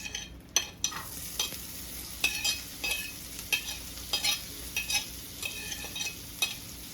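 Baby red and orange peppers and onions frying in a pan for a keto breakfast: a steady soft sizzle with repeated sharp stirring scrapes and clinks of a utensil against the pan, close by and fairly quiet, with no talk.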